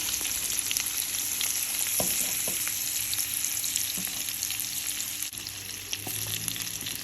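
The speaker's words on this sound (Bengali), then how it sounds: "মাছগুলিকে 4-5 মিনিটের জন্য আমি এপিঠ ওপিঠ ভেজে নিব" Taki fish fry in oil in a pan with a dense, steady sizzle and crackle that holds for several seconds. A few faint knocks from turning the fish can be heard, close and with no talk.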